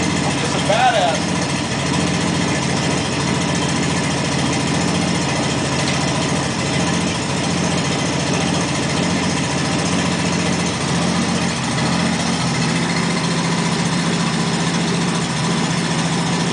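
An AMC six-cylinder engine idles with a steady, even rumble throughout, loud and close, with no clear talking over it.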